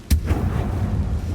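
Incendio fire spell cast in the game Hogwarts Legacy, a sharp burst followed by a low, steady rumbling roar that sustains for over a second.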